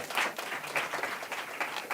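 Audience at a panel event on food and healthcare spending gives a round of applause, a brief, fairly faint patter of many hands clapping from a distance.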